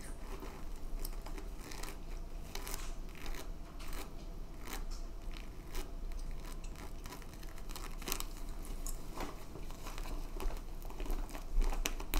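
A plastic goodie bag is handled up close in an ASMR setting, giving continuous crinkling and rustling with sharp crackles scattered throughout and no talking.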